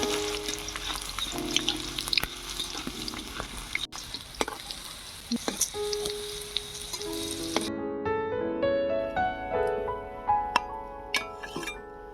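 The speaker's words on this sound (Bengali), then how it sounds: "রসুনগুলো ভেজে নেব।" Garlic and chilies frying in a pan for a fish bhorta, a steady close sizzle with occasional stirring clinks, the sizzle cutting back partway through to quieter crackling.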